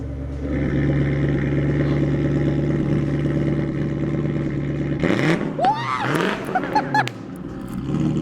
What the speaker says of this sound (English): you could change the sound of the exhaust